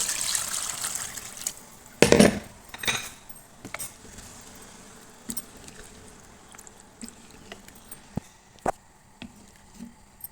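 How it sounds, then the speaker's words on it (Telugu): Water is poured into a pot of chicken pulao in a loud splashing burst near the start. Scattered light clinks and taps of a utensil against the pot follow. "ఇప్పుడు ఇందులో నీళ్ళు పోసేద్దాం"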